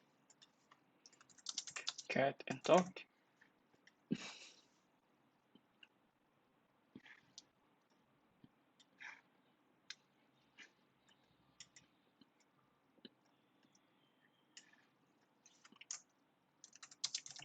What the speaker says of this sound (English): So now let's demonstrate typing anything that we can search.